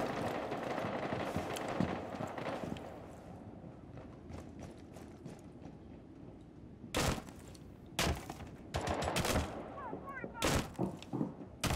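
Sharp bursts of gunfire in Rainbow Six: Siege cut through a noisy mix of ambient game sounds, with several loud volleys in the latter half.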